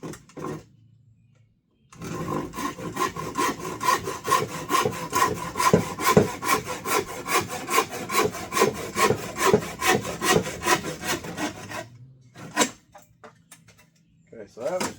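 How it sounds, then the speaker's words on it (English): A plain handsaw cuts a wooden board to length for a shelf, a close, rhythmic run of rasping strokes lasting about ten seconds, with quiet before and after. "we'll cut it. And just a plain old handsaw from Lowe's."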